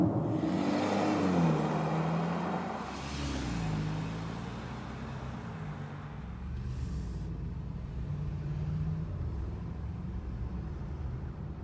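BMW X3 30i xDrive (G01) driven through hilly park roads, with a steady muffled engine and road rumble, faint pitch rises as it accelerates, and no voices.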